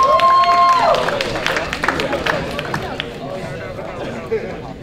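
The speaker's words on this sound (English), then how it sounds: "A huge round of applause for Lily P." Applause from a forum audience, greeting a young entrepreneur as she takes the stage. Clapping is loudest at the start and fades steadily over several seconds, with crowd murmur and some background activity mixed in.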